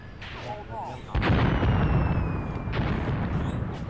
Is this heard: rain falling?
no